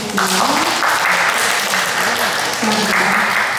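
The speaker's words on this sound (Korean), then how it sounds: "쇼가 즐거우셨다면 큰 박수 한번 부탁드릴게요" Applause from visitors after a kinetic pillar show at Hyundai Motorstudio Goyang, a steady dense clapping wash with a voice and music-like tones running underneath throughout.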